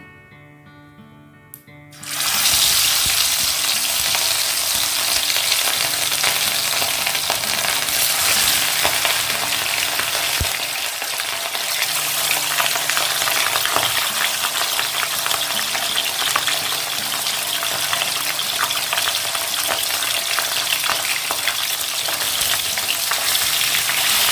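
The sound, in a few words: katla fish frying in mustard oil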